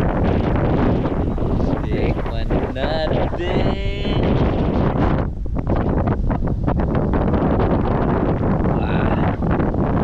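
Strong wind sweeps across a beach on a cold night, a steady, loud, buffeting roar against the microphone that runs without break, while people talk over it.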